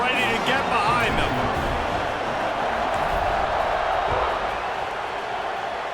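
A stadium crowd roars steadily through a college football video game (LSU vs Alabama) as the teams line up to kick off, a continuous loud wash of cheering with a commentator talking over it.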